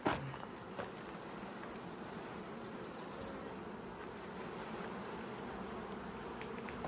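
Honey bees buzzing around beehive frames, a steady soft drone filling the whole stretch, with a faint knock at the start and no talking.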